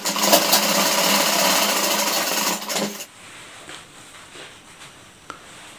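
A sewing machine stitches the back pocket of a pair of pants, running loud and steady with a dense, even whir for about three seconds before it stops and leaves a quiet room with small faint handling noises.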